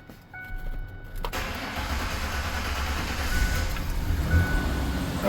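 A truck engine cranks and catches right after the key is cycled: a few short chimes first, a sharp crank, then the motor settles into a steady, rising idle rumble close by with no talk.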